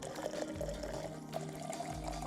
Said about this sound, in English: It's the tea pour, kids!